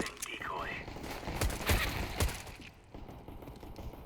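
A decoy grenade in Counter-Strike on the Mirage map mimics gunfire with a few sharp, fairly close rapid shots amid game ambience, while someone speaks faintly over the action.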